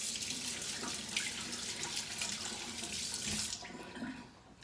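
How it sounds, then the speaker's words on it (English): A kitchen tap runs steadily as hands are washed beneath it, the splashing stream close and continuous before the flow is shut off near the end. "let me just wash my hands quick"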